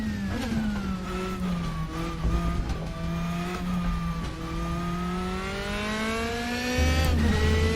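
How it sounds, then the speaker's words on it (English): Loud Mercedes DTM 2016 race car engine in the RaceRoom racing game, droning steadily at high revs with rising and falling pitch through gear changes and a deeper surge near the end, alone without talk. "Oh, this is a much louder car than the last one."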